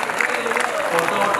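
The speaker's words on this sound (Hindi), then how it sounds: "तालियां दो भाई" A brief burst of crowd applause, dense clapping over a murmur of voices.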